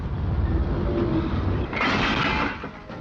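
A 1963 merry-go-round coal freight train runs on the rails between pithead and power station, with a loud, continuous rolling rumble that swells into a brighter rushing hiss partway through, then eases slightly.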